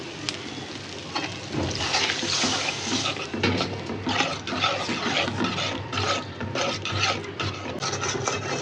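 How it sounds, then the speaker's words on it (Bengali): A little water is poured into a frying curry pan of spices for stinging catfish with potato, followed by a steady wet sizzle with scraping and stirring scrapes at close range. "সামান্য একটু পানি দিয়ে দিই।"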